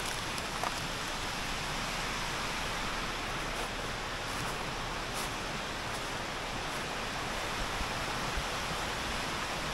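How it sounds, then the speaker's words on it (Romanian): The Curechi waterfall in the Apuseni mountains, about 30 metres high, gives a continuous broadband roar of falling water, steady and fairly loud throughout, with no voices. "Ne-am oprit să vedem cascada."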